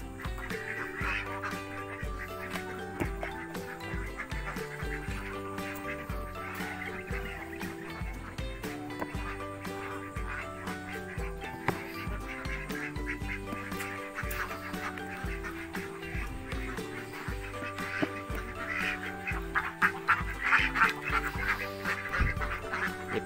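Laying ducks on a duck farm, a continuous crowded chorus of quacking and honking at moderate loudness over a long stretch, with no voices over it.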